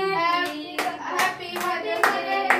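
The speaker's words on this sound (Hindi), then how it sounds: "बेटा ताली बजाओ" Several people clap their hands in a steady rhythm at a Mother's Day cake cutting at home, the close claps sounding over singing voices.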